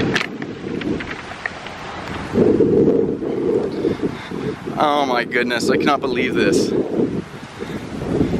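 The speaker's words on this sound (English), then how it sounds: "the wind is not letting up right now" Strong outdoor wind buffets the microphone in loud, rumbling gusts, steady and close throughout, while someone speaks over it.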